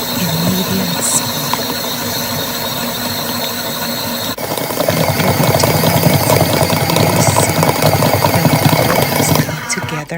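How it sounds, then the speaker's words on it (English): A stand mixer kneads bagel dough at medium speed, its motor droning steadily and loudly with a whirring mechanical hum close by throughout. "I am going to mix it for about 10 minutes in medium speed."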